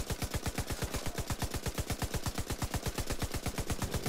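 Sustained light machine gun fire in the Division 2 video game, a fast, even stream of loud booming shots repeating roughly ten times a second without a break, with no talking.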